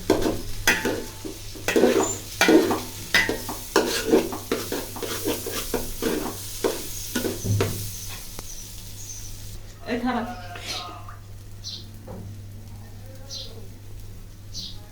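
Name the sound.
rice being fried and stirred in a pan for chicken biryani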